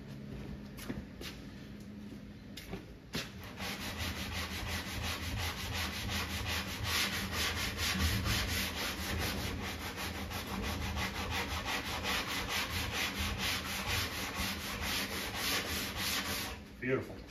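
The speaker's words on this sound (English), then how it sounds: "let me sand that real quick. That little bit of Bondo that's sticking out there." Steady, continuous scraping of a sanding block rubbing back and forth over Bondo filler on an arcade cabinet, close and fairly loud throughout.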